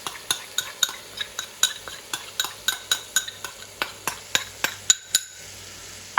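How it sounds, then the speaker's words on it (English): A utensil stirring walnut pesto into trofie pasta in a pan, a regular series of sharp scrapes and clinks against the metal, roughly three per second, close and clear before a brief pause. "And I'm going to give that a stir"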